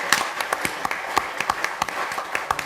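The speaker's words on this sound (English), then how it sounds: "Please give them a big round of applause" Audience at a Korea-US free trade agreement summit giving applause, a thinner, irregular patter of individual claps from a modest crowd, fairly close and without speech.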